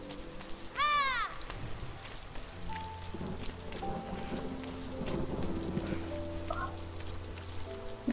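Steady rain hisses and patters throughout a scene in the video game Rime, with a brief bright chirping sound early on and faint clip-clop-like taps over the continuous wash.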